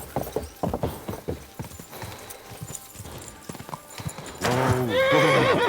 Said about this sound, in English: let the horse charge up here.